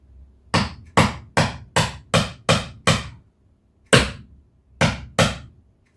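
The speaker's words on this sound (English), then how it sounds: "you have to make sure you hammer it all the way in" Hammer blows driving a part of an indoor plant stand into place: ten sharp, loud knocks, seven in a quick even run, then a pause and three more spaced strikes, with no talk.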